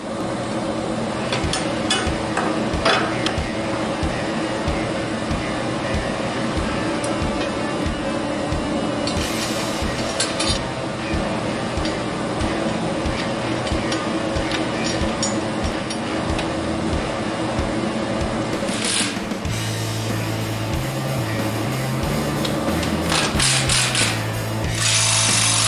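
Power tools and ratchets fasten pulleys onto a twin Eaton M-90 supercharger belt-drive build, with short bursts of drilling and clicking ratcheting over a steady mechanical hum, close by and without talk.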